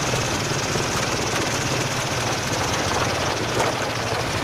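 A homemade propeller-driven aerosled runs on thin ice with a loud, steady drone of engine and airscrew close by, unbroken throughout.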